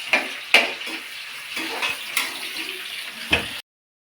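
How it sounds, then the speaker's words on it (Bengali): Onions fry in a pan for a Bengali home-style curry, a soft, steady sizzle with scattered crackles and a few sharper pops, heard close with no talk. "ভাজা হচ্ছে বন্ধুরা পেঁয়াজ"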